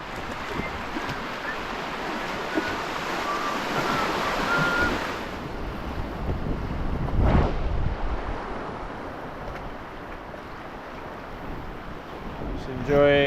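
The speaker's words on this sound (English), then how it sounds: "sailing our way to the dockyards. The wind yet again paying us a favour." Wind rushing past a canoe under sail on open water in Scotland, a steady broad whoosh with waves and surf washing alongside throughout, swelling briefly mid-way.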